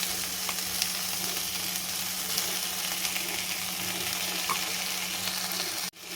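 Okra fries in oil with a steady, close crackling sizzle, stirred now and then with faint scraping clicks, before a brief dip near the end.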